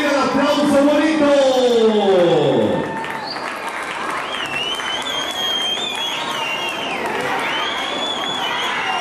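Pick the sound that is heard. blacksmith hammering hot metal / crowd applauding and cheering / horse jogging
crowd applauding and cheering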